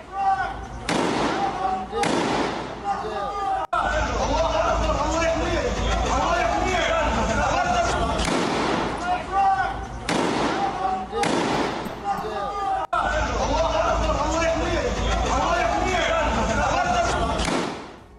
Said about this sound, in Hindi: कैसे गोलीबारी हो रही है, आमने सामने की जंग चल रही है